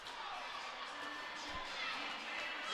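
Crowd noise at a girls high school basketball game between Mary Louis and Monsignor Scanlan, a steady wash of cheering and chatter throughout a timeout, with a brief low thump midway.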